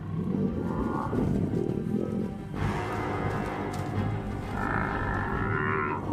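A herd of wild buffalo charges while a lion pride tries to flee, producing a loud, continuous rumble of heavy hooves, bellowing and roaring that stays dense and close throughout.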